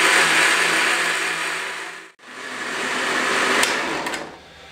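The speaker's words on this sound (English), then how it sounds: "I've let that whiz for about 2 minutes, just enough time for the sugar to dissolve into the mixture" A blender whirs loudly, blending fresh mango, sugar and cream into an ice cream mixture, with a steady motor roar that briefly cuts out, restarts, then winds down at the end.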